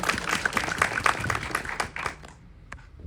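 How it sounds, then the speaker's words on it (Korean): A film screening audience claps for the director's birthday, a burst of scattered hand claps that thins out and trails off into a few last taps. "박수 한번 크게"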